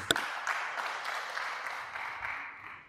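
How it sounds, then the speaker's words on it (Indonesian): Scattered applause from a modest group at a church recollection gathering in Mataram, a few sharp claps standing out at the start before settling into a softer, fading patter. "Tepuk tangan dulu untuk Ibu."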